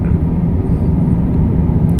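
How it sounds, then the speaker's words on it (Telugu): Steady, loud low rumble of cabin noise inside an airliner cruising on a long flight from Bangkok to Melbourne, constant throughout with no talking. "ఏడు గంటల నుంచి ఈ విమానం ఎలా వెళ్తూనే ఉంది"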